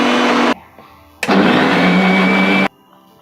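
A kitchen mixer grinder blitzes beetroot with ginger and curry leaves in loud, close whirring bursts: a short run, a pause, then a longer run of about a second and a half before it cuts off.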